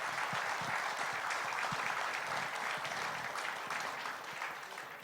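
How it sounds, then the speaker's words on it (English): Audience applause at a basketball event in Alabama, a steady dense wash of many hands clapping for about five seconds, loud and sustained before easing slightly at the end. "We applaud you guys."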